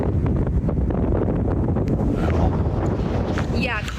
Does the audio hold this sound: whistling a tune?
no